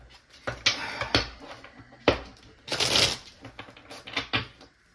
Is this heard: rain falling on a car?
no